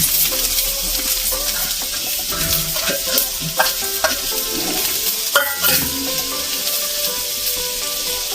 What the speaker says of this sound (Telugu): అవి బ్రౌన్ కలర్లో వచ్చేలాగా కొంచెం వేయించుకుందాం.